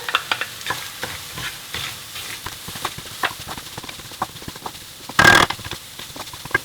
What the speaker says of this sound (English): I'm going to add 1/2 cup of frozen peas